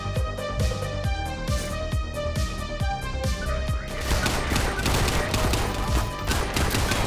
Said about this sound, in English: Glock 17, baby. Oh, it's got the right click where you can 3-shot burst.